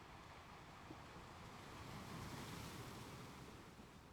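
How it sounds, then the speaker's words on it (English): Ocean waves rolling in toward shore, a soft continuous wash of surf with a gentle swell in the middle, faint and distant with some wind noise. "As the waves rolls towards you"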